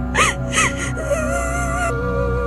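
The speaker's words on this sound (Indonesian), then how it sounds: "disusul suara tangisan ketakutan yang semakin jelas." Frightened crying and wailing in a horror story, with two sharp gasping sobs followed by a long, wavering moan, close and fairly loud over a low background hum.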